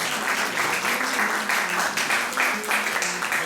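Audience applause at an art event, a steady wash of many hands clapping at moderate volume with no break.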